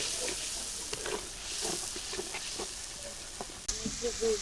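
Eggplant coated in turmeric and chili frying in oil, a continuous close sizzle with intermittent clicks and scrapes while people talk nearby.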